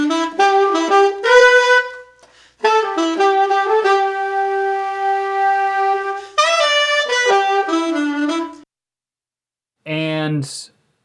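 Brass horn section sample taken from the bridge of a song cover, loaded on a Roland SP-404 MKII: bright sustained brass chords in several phrases with short gaps, ending with a brief final stab, no talking.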